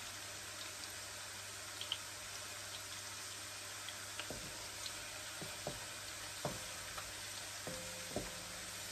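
Garlic for squid adobo frying golden brown in a pan gives a steady, quiet sizzle, with a few faint clicks and taps of a utensil scattered through it.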